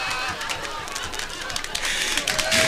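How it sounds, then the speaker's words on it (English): A live audience claps steadily on the Don Rickles comedy record "Hello Dummy!". The applause is a continuous, moderately loud patter that swells slightly toward the end. "I like that they just keep clapping"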